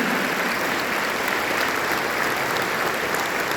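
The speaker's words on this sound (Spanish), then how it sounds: "vamos a brindarle fuertes aplausos al Padre que nos vino a dar la reflexión en esta noche" Audience applause for a priest after his reflection at a Catholic church gathering, a steady, dense wash of many hands clapping at even loudness throughout, with no voices over it.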